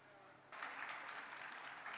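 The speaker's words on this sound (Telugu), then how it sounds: "అడగగానే చప్పట్లు అద్భుతంగా కొడుతున్నారు" An audience claps at a film pre-release event, applause breaking out suddenly after a quiet moment and continuing steadily at a moderate distance.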